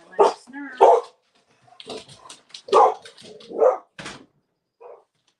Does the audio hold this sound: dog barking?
yes